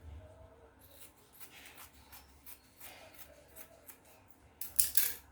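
Scissors snip and trim through fabric and lining for a bustier's front piece, a run of soft close cuts with rustling handling, ending in a louder burst of snipping.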